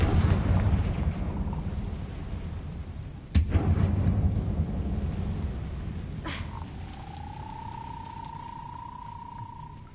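Confringo spell blasts in the Hogwarts Legacy video game produce booming explosions over a rumbling, crackling background, with a sharp blast near the middle and another later followed by a sustained ringing tone.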